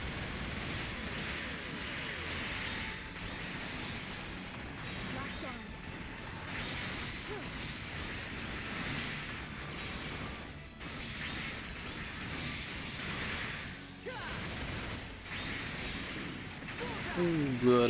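Gun tank firing in the video game Gundam Breaker 4, with dense bursts of gunfire and crashing impacts running steadily under ongoing talk.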